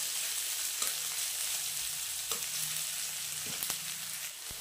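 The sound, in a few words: onions frying in a pan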